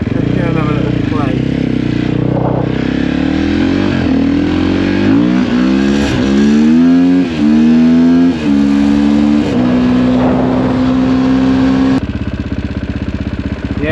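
A Sherco 450 SEF enduro motorcycle with a cutting-out fault drones up and down through rising and falling revs, then abruptly goes quiet as the engine dies, heard close and loud with some talk in the mix.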